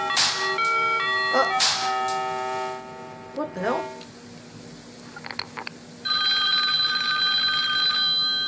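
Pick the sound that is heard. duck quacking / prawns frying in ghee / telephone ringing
telephone ringing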